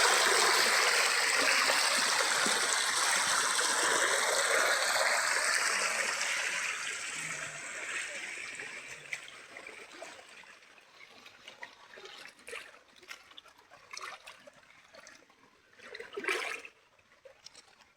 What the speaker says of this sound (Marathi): धरणाचं पाणी जोरदार आलेलं आहे.